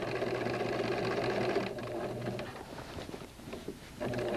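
A sewing machine runs steadily while stitching around a fabric casing, its close, even mechanical whir continuing almost without pause, dipping briefly near the end.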